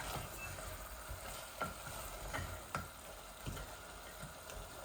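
Mutton and tomato fry bhuna-style in a pot, giving a soft, continuous sizzle. Spatula scrapes sound roughly once a second, with no talking.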